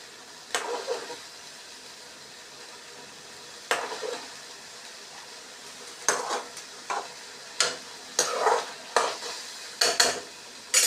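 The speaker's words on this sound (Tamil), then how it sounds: "இது நல்லா கிண்டி வரட்டும். இது நல்லா கொதிச்சு வரட்டும் ஃப்ரெண்ட்ஸ்." Burmese-style prawn masala being stirred in a pan, with a series of scraping, clattering spoon strokes in uneven bursts over a low sizzle, close and fairly loud, no voices.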